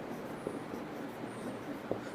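A pen drawing a diagram of separate cell structures on paper, faint scratchy strokes in a quiet room with a couple of light taps.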